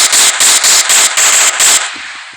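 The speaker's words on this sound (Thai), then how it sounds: "เสียปืนอาจจะดังนิดนึงนะครับ" Rapid bursts of automatic gunfire from a Minecraft game, loud and close, in about six repeated sprays before fading into a short quiet tail, with no talking.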